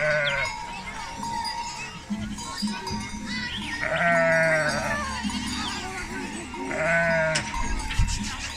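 Goats bleat repeatedly in a highland summer pasture during the seasonal migration to Dikmen plateau, their wavering calls rising over a steady outdoor background with faint voices and possible animal bells.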